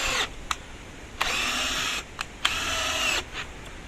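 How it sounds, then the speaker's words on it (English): A power drill drives screws into wood while building a garden bed, giving several bursts of whirring motor noise of about a second each, separated by short pauses and clicks, heard close up with no talking. "Sometimes it helps if you go back and forth with the drill. That way the screws go right in."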